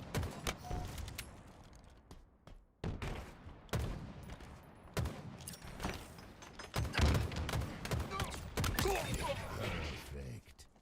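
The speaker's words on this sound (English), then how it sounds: "Let's use the rockets." Rocket launcher in Halo, a series of heavy booming blasts and explosions spaced through the stretch amid dense gunfire, loud and close, with a player's voice talking now and then.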